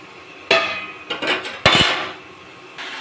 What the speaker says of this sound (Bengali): শুকনো কড়াইতে একটু ভেজে নেবো